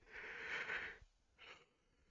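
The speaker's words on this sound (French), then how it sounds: "Désolé pour le gros bâillement là." One big, close, breathy yawn lasts about a second and is followed by a shorter, softer exhale, quiet and with no speech.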